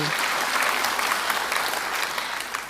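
An audience at the University of the South Pacific applauds during a royal visit by the Duke and Duchess of Sussex, with steady, dense clapping that carries loud and sustained through the whole stretch and fades only slightly at the end.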